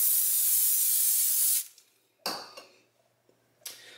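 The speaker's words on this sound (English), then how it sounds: "The spray I will be using is avocado oil." Avocado oil cooking spray released from a can in one steady, loud hissing burst lasting over a second. Quieter clatter and short rustles of a pan being handled follow.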